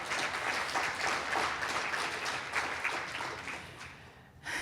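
An audience at a community open house welcoming a college president gives sustained, dense applause that stays at a constant level, then thins out and tails off near the end.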